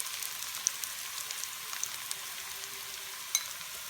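Ginger and garlic sizzle in hot oil in a pan, a soft, steady crackling hiss with a few sharper pops, faint and close with no talking.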